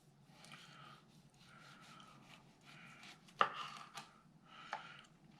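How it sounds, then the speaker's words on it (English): A kitchen knife trims a small piece off the top of a cap of food during cooking, with several crisp cutting and chopping taps. A sharper knock lands partway through, all quiet and close. "you're going to take your knife, and you're going to cut a small portion off the top of the cap"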